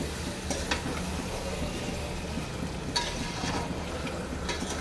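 Country chicken sautéing in a pan over a low gas flame, a soft steady sizzle with a few brief stirring scrapes and spatters, close and moderately quiet, no talk.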